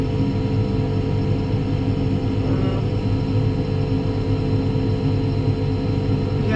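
Steady, continuous drone of a Fendt 724 tractor engine running during harvest work, a dense low rumble at constant load heard from close by, with no talk.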